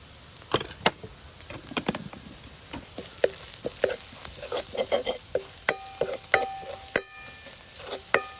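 Curry leaves, turmeric and curry powder sauté in a pan. The oil gives a light, steady sizzle, broken by sharp scrapes and clicks of stirring at an uneven pace, close by, with no talk.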